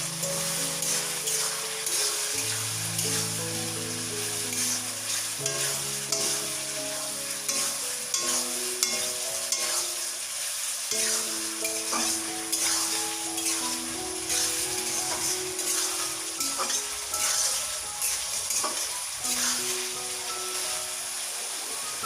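Cumin frying in a pan for a vegetarian paneer, potato and pointed gourd dish, with a constant close sizzle and hiss under repeated stirring strokes; a tonal musical background runs underneath.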